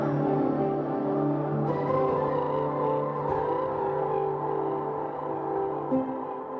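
An ambient piano track run through heavy effects processing forms a dense, sustained wash of layered tones that holds steady and continuous throughout, with no talking.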